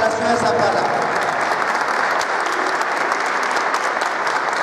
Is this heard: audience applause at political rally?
yes